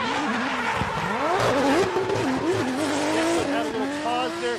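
A Cusco A90 Supra drifts through a Formula Drift Japan qualifying run at Ebisu, its engine wailing up and down in pitch over continuous tire squeal, with a commentator talking over the noise.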